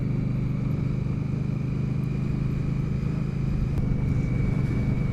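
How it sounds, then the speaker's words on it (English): A 2021 Indian Scout Bobber motorcycle engine holds a steady 2800 RPM, giving a continuous, even drone with a smooth low rumble and no speech. "Engine RPM, so now we're back at 2800 RPM."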